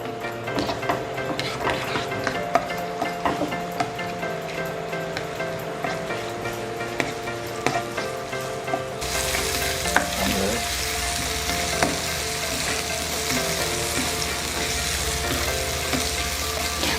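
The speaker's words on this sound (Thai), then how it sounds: "เราผัดให้เครื่องแกงนะคะ หอมเลยค่ะเพื่อน ๆ" Thai curry paste for a spicy chicken noodle curry is stir-fried in hot oil, sizzling and scraping continuously up close, the frying growing noticeably louder and fuller partway through.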